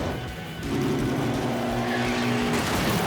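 Racing cars in a junkyard joust video game roar at full throttle as one rams another from behind and launches over it, flipping sideways, with steady loud engine drone and skidding tire noise throughout.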